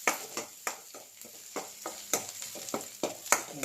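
Capsicum going into a pot of vegetable soup: a run of sharp, quick crackles and taps repeating irregularly about every third of a second, close and fairly faint, with no voices.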